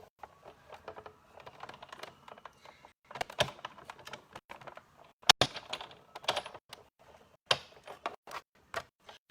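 A Big Shot die-cutting machine cutting shapes, heard as irregular clicks, ratcheting ticks and mechanical clatter at close range, with sharp bursts spaced through a quiet background and no talking.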